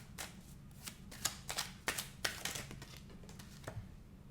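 Tarot cards are shuffled by hand for a nine-card draw, making a close, quiet series of crisp riffles and slaps in uneven bursts, with no voices.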